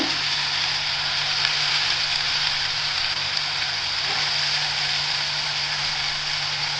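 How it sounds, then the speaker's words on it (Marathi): Sliced onion fries in hot oil in a kadhai, giving a steady, dense sizzle that holds evenly throughout without pause. "कांदा चांगला भाजायचा लाल होईपर्यंत"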